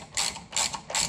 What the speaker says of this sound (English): And then you'll put the second nut on, and that's a lock nut to keep the